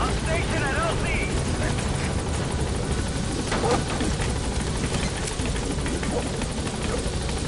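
B-Quad support helicopter in Metal Gear Solid V: The Phantom Pain arriving at a landing zone, a loud continuous rotor and engine roar close by, with a voice speaking over it.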